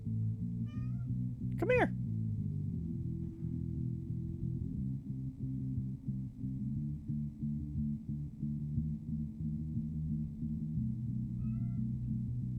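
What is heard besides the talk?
cat meowing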